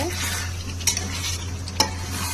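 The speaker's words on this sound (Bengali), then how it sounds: "এখন আমি ঢাকনাটা উঠিয়ে মাংসগুলোকে একটু নেড়ে ছেড়ে দিব ভালো করে।" Meat being stirred in a covered pot just after the lid comes off, a steady low sizzle and scraping with two sharp utensil clinks against the metal, close up with no talking.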